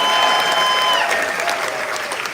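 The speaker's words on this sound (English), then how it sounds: "Let's give him another round of applause" An audience applauds at a cruise ship naming ceremony for MSC World America, a dense, steady burst of clapping with a sustained musical tone underneath.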